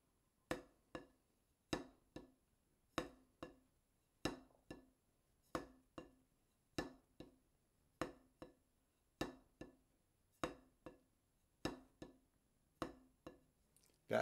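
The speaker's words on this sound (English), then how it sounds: "Okay, throw drop sounds like this." A drumstick plays repeated throw-drop strokes on a drum: crisp wooden hits in pairs, a strong stroke followed by a lighter rebound, spaced evenly at about one pair per second, clear and close with silence between.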